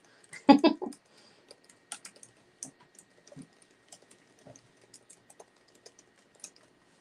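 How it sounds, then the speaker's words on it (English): Keys on a computer keyboard clatter in sparse, irregular taps and short bursts, close and fairly quiet, with a louder cluster near the start. "I'm typing in my text."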